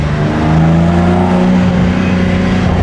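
BMW M3 engine accelerating hard, a loud continuous roar with rising pitch as the revs climb, close by with no voices.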